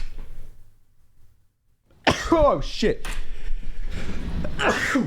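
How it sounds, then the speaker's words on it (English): A sharp sneeze bursts out after a quiet pause, followed right away by a voice talking. "I gotta sneeze."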